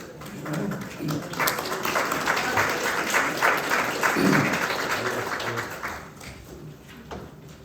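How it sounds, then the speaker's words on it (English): City council meeting audience applauding litter cleanup volunteers, a sustained round of clapping from a room of people that swells and fades over several seconds. "So big hand applause to those people that got out there and worked like that."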